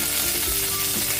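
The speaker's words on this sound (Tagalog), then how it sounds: "Magigisa na po tayo para sa ating pork ribs, caldereta." Butter sizzling steadily in a hot pan as sautéing begins for pork ribs caldereta, a loud, continuous frying hiss with no talk.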